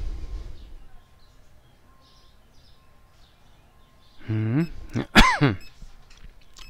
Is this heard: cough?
yes